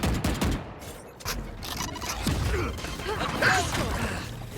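Gunfire in the Valorant shooter game, a rapid burst of loud sharp shots and clattering impacts at close range, followed by dense mixed game effects and a muffled voice underneath.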